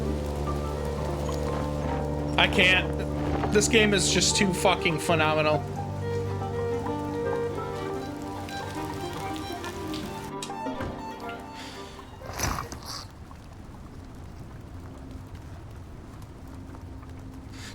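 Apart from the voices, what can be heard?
rain hitting rooftops in The Midnight Walk video game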